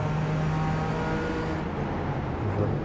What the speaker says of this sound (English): Another car's coming.